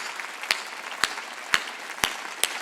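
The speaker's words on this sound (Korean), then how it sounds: "박수 치라고." A church congregation at a Sunday charismatic worship service claps in a slow, even rhythm, about five distinct loud claps roughly half a second apart over a softer bed of scattered clapping, with no voices.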